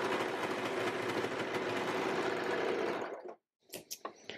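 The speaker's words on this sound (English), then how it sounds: "sew it the rest of the way with the seam" A sewing machine stitching the rest of a seam on a garment runs in a fast, steady rattle for about three seconds, then stops, followed by a few light clicks and handling sounds.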